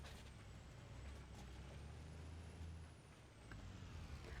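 Idling truck in Farming Simulator 25 multiplayer with a steady low diesel rumble and a loud air brake hiss, plus a faint high whine drifting over it, no talk.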